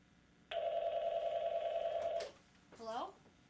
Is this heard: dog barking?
no